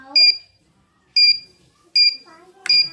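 A buzzer in an electric bicycle dipper alarm circuit sounds four short, sharp electronic beeps at close range, evenly spaced, with someone speaking in between them.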